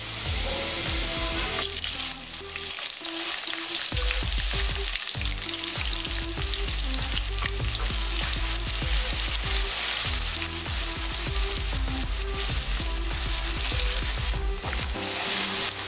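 Chopped onion frying in a pan, a constant crackling sizzle heard close and loud, with dense popping throughout and a rhythmic clinking or stirring pattern underneath, no voices.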